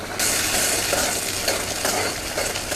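Chopped spinach is stirred into simmering bone broth in a pan, producing a steady, close bubbling sizzle with soft stirring swishes throughout.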